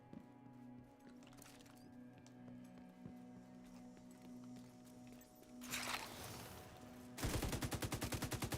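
Automatic weapon fire in the shooter game The Division 2, a quiet bed of game ambience giving way to a burst of noise and then a loud, rapid, evenly spaced run of shots at the end.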